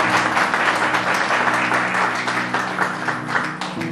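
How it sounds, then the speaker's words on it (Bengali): A church congregation at a Bengali sermon bursts into loud, sustained applause, dense clapping filling the room for the whole stretch and easing slightly at the end. "জোরে করতালি দিন"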